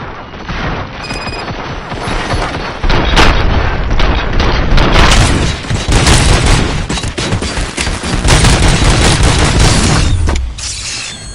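Loud, dense gunfire and booming blasts from a video game shootout, near and sustained for most of the stretch, with rapid overlapping shots and explosions that cut off abruptly near the end.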